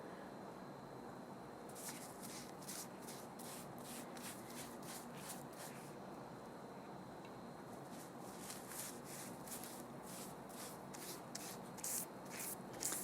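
A brush spreads a homemade green cleaning mixture onto fabric in a kitchen, making soft, steady rubbing and swishing strokes in a rhythmic series, close and quiet throughout.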